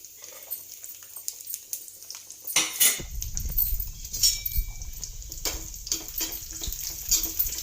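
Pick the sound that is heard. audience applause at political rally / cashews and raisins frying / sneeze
cashews and raisins frying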